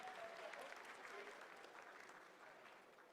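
Applause from a room of onlookers follows the Chandrayaan-3 lunar landing broadcast, a steady, fairly faint wash of clapping that holds throughout and slowly tapers.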